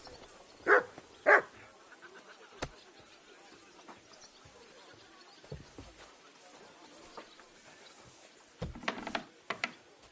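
A dog barks in the video game Kingdom Come Deliverance 2, with two short barks near the start and a few more toward the end, over quiet game ambience and faint speech.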